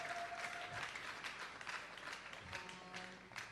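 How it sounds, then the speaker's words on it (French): A church congregation applauds and cheers through a sermon, with steady, dense clapping of moderate loudness that carries on without a break. Faint tonal sounds ring in the background. "Est-ce que nous pouvons acclamer encore très fort?"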